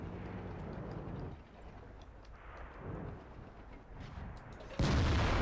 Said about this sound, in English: That was a shot right there.